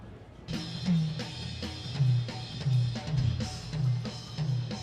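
Drum kit recording with the noise gate switched off, heard at a live session, with steady kick and tom hits buried under constant washy cymbal bleed and hiss, a dense, muddy mix with no talking.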